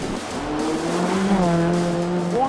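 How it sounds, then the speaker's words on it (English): Rally car on a loose surface during a club rally round, its engine revving and rising in pitch as it pulls away, steady and fairly close, with a co-driver's voice faintly underneath. "Rev it up, rev it up."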